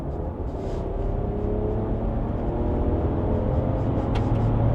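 A 2025 Ram 1500 Limited pickup truck accelerates on a highway, heard from inside the cabin as a steady, loud engine and road roar that builds slightly over a few seconds, with no talk.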